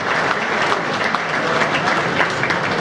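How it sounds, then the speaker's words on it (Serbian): An audience at a political gathering claps loudly and continuously in a dense, even burst of applause, with faint crowd murmur underneath. "Jedan veliki aplauz za našeg koalicijnog partnera"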